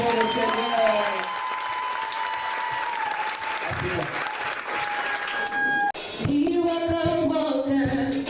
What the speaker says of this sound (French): Acclame alors très fort le Seigneur